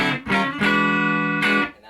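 Electric guitar played through a vintage 1976 Traynor YGL-3 amplifier, with master volume at 5, gains near 6.5 and tones at 5: a few loud, sustained overdriven chords, ringing and then cut off.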